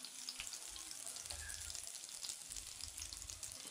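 Garlic, mustard seeds and curry leaves fry in hot oil with a faint, steady crackling sizzle and occasional soft pops, no voices.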